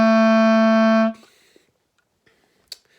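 A single sustained low wind-instrument note, steady and full, held for about a second before cutting off into near silence with a few faint clicks.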